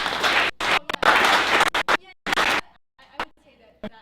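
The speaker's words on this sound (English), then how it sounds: "Everyone, Shiva, round of applause." A short burst of audience applause after a presentation at a tech startup meetup, a loud clatter that cuts in and out in choppy bursts, then gives way to scattered noises and near silence.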